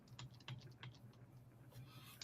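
Quick, irregular keystrokes on a computer keyboard, close and fairly quiet, in bursts over a low steady hum with no talking.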